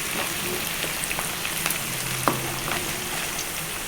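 Onions, green chillies and kasuri methi fry in a pan for a Telangana-style bitter gourd fry, a close steady sizzle with a few soft stirring clicks and no talk.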